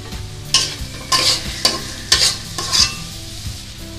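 Carrots are stirred with onions frying in a little oil for restaurant-style Chinese fried rice, making five or six loud, close scraping sweeps over a quiet sizzle, with no voices present.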